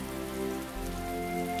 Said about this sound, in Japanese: 空海の祈りが勝ってついに恵みの雨が。